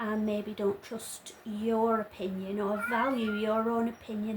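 A cat meows repeatedly nearby in a run of plaintive, wavering calls, mixed in with a person talking at the same time.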